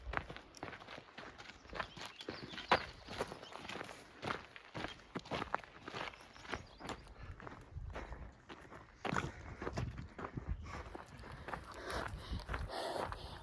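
Hikers' footsteps on the Pacific Crest Trail, a faint, steady crunching tread with irregular scuffs and steps continuing throughout.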